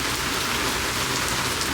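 Rain falls steadily outside at a live show in Newark, New Jersey, a dense, even hiss of drops hitting surfaces that continues without a break and without voices.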